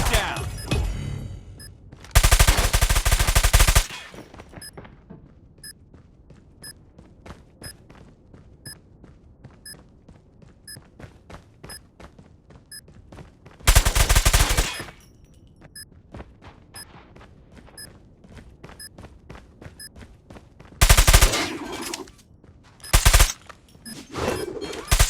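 Bursts of automatic gunfire in a video game shooter come in several loud, separate volleys with rapid single shots between them. Faint electronic game tones sound throughout the clip.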